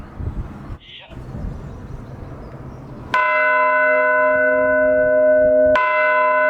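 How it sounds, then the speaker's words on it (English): A medieval church bell rings very loudly inside its tower, one struck bell's ringing tone sustained for several seconds and then a second strike, after a stretch of murmuring voices and low rumble. "Because of the volume of the bells, everyone in the tower was advised to wear ear protection."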